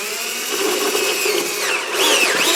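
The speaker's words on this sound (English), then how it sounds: "So I'm going to set the drill onto low speed, lock it up, and here goes." A power drill set to low speed bores through a vehicle centre dash panel, a close, steady whirring whine that rises and bends in pitch near the end as the bit cuts through.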